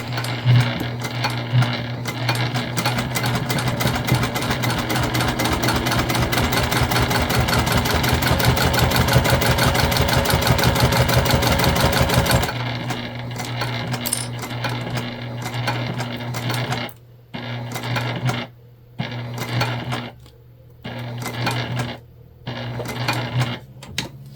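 A sewing machine runs a steady, fast, mechanical whir while topstitching a candy bag with wide stitches. The run is continuous at first, then breaks into short stop-start bursts with brief pauses, heard up close.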